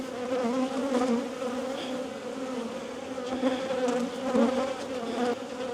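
Honeybees buzzing around an open hive on a farm yard, making a dense, continuous close drone that swells and fades slightly, with individual bees passing near.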